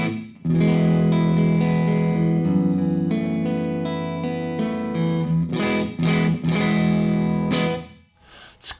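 Sustained distorted electric guitar chords through a guitar cabinet ring out with a spacious reverb tail from a large studio room at Ocean Way Studios, swelling and fading before a final brief strum.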